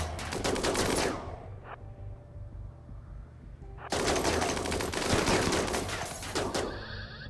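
Submachine gun fire in RimWorld combat: dense, loud bursts of rapid shots, a long one up front, then a quieter gap before another sustained volley with scattered reports near the end.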